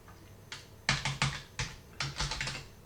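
Typing a web address on a computer keyboard: a quick run of close, crisp keystrokes in two uneven clusters over a quiet room.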